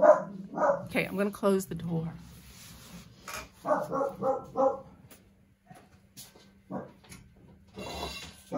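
Several dogs bark indoors in loud, bursty volleys near the start and again midway, with whimpers and yips between them, while someone speaks over and between the barks.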